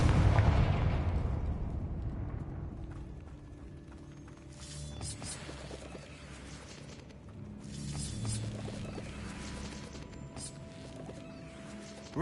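A fire-blasting Confringo spell goes off in Hogwarts Legacy on PlayStation, a booming burst at the start that decays into a rumbling tail, followed by fainter crackles and softer impact blasts under quiet game ambience.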